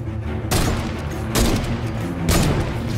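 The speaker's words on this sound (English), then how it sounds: "How did I miss every single shot?" Heavy sniper rifle shots in the Fortnite video game: three loud, booming cracks spaced about a second apart over a steady bed of game sound, with no talking.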